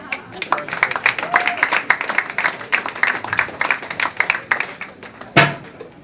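An audience at the 2010 Boston Film Festival closing night awards claps in a dense, steady patter of many hands, with one sharper loud burst near the end.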